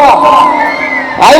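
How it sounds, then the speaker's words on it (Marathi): A loud crowd of women cheers and whoops at a palkhi procession for the mother goddess in Turbhe, Navi Mumbai, with sustained shrill shouting close by and a fresh swell of cheering at the end. "जल्लोष कसा पाहिजे बायकांचा"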